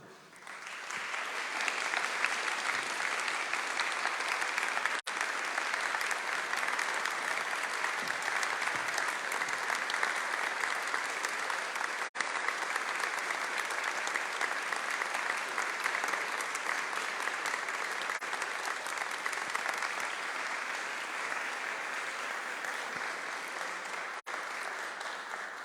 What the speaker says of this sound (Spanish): para que lo recibamos con un enorme aplauso